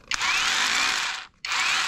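An OSUKA cordless three-mode rotary hammer drill whirs loudly and steadily while its mode is switched, cutting out briefly for a short gap before spinning up again, heard alone.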